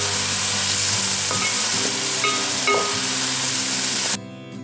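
Finely chopped vegetables fry for Chinese veg fried rice, giving a loud, steady close sizzle with faint clinks of stirring throughout, then dropping off sharply near the end.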